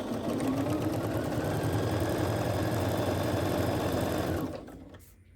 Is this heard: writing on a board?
no